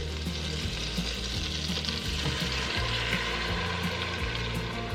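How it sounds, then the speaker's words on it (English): Heavy cream poured into garlic butter in a pot, giving a steady, close frying sizzle that runs evenly throughout with no one talking. "We're gonna add 1 cup of heavy cream."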